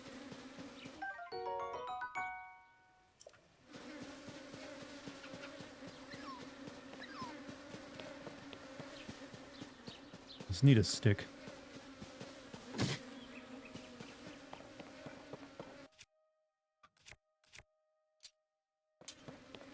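Bees from a beehive in Zelda: Tears of the Kingdom buzz as a steady, close drone under a few spoken words, with sharp clicks and thumps along the way before the buzzing cuts out near the end.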